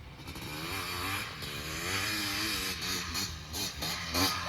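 A Honda ATC250R three-wheeler fitted with a 310 big bore engine revs and pulls on a track, a buzzing two-stroke drone rising and falling in pitch, mid-distance and fairly loud, with no talking.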